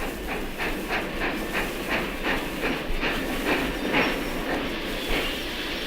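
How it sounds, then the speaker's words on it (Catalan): A train rolls along with rhythmic clickety-clack and steady hissing, a continuous loud rumble without any clear slowing to a halt. "quan el tren s'aturà"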